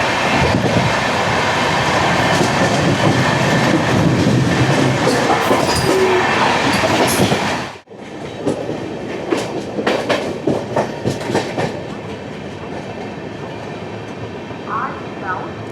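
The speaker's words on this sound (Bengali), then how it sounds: "আর অপর দিক থেকে ছুটে আসছে 13053 হাওড়া থেকে রাধিকাপুরগামী কুলিক এক্সপ্রেস" A Tebhaga Express train with a new LHB rake runs with a loud, continuous rumble and clickety-clack while the Howrah–Radhikapur Kulik Express passes the other way, the roar dropping abruptly midway into quieter wheel clatter and rattles.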